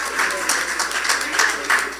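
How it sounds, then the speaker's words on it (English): Audience applause at a talk, a moderate ripple of clapping in uneven bursts rising and falling across the moment. "let's give those that standing an applause, if you care to."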